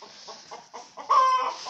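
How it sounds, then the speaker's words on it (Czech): Farm chickens clucking nearby, a run of short rhythmic clucks building to a louder drawn-out call, close and clear with no talk. "To tady mají slepice."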